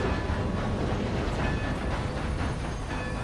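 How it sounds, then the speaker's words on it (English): A large steam-era train rolls past in the video game Red Dead Redemption 2, a dense, loud, continuous rumble and rattle of wheels and cars with no break and no talking. "Look at this train. This thing's huge."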